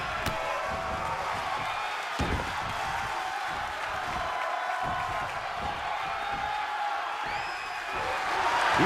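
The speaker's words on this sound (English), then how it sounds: "He's getting a huge boost right now from all those chants and cheers." A large crowd at a downhill mountain bike race roars steadily with cheers, whoops and chanting, a dense continuous wall of noise that swells louder toward the end, with a brief whistle-like tone near the close.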